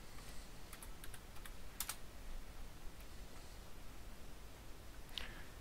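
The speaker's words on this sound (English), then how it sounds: "Type in your password." A computer keyboard clicks with a short burst of light, quick keystrokes as a password is typed, with a few scattered taps amid a faint background hiss.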